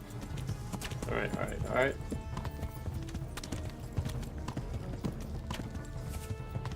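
Horse hooves cantering in the Kingdom Come: Deliverance video game, a steady clip-clop rhythm running throughout with a brief whinny early on, while someone speaks briefly over it.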